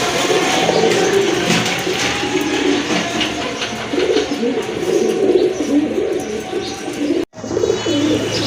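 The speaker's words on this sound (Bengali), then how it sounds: "মাশাল্লাহ, আরেক জোড়া চীনা কবুতর" A pair of crested Chinese pigeons coo softly and repeatedly, close by, with other birds chirping around them in a busy, noisy setting and a brief cut near the end.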